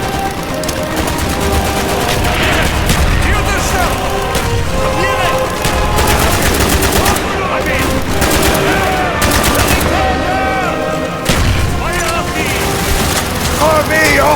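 Mortar fire and gunfire in the Call of Duty: Black Ops Project Nova mission, a dense unbroken barrage of rapid shots and heavy booms, loud and continuous, with shouted voices and music mixed in.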